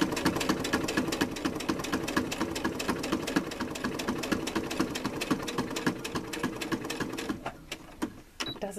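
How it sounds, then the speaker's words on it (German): A sewing machine stitching fabric close to an edge, steady fast needle chatter held for several seconds before slowing and stopping near the end, with no speech. "Also einmal hier knappkantig nähen."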